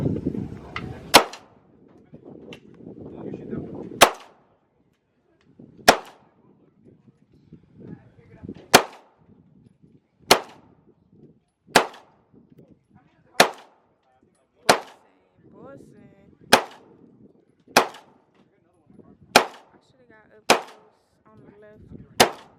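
Gunshots at an indoor-style gun range, a steady series of about fourteen sharp, loud cracks spaced roughly every one to two seconds, with faint talking and shuffling between shots.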